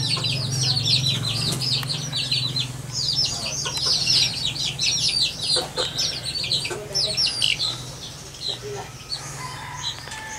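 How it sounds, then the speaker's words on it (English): A native rooster and native chickens cluck and call on a rural property, with bright repeated chirps from birds layered over a steady low hum, the calls coming in bursts throughout. "Nice little native rooster."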